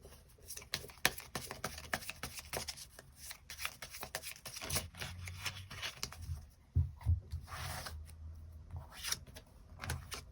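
Tarot cards shuffled by hand and then drawn, with rapid crisp riffling bursts, softer sliding and tapping as cards are laid out, close and fairly quiet with no talk.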